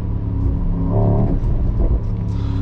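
A 2022 Mercedes SL 63 AMG V8 revs hard and close, its deep rumbling engine note swelling and falling steadily throughout with no talking over it.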